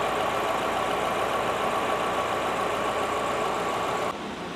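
A 2024 Chery Tiggo 2 Pro's 1.5-liter engine idles smoothly at close range, a steady, even hum that holds constant before dropping slightly at the very end.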